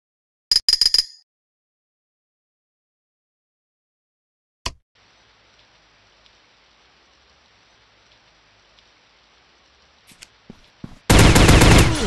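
Short bursts of rapid video-game gunfire from a mobile army shooter, separated by near silence and a single sharp shot, ending in a loud sustained volley.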